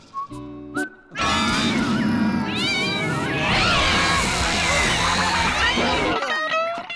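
Cartoon cats meowing and caterwauling in a loud, overlapping chorus that runs for several seconds, preceded by short whistly tones and a brief pause.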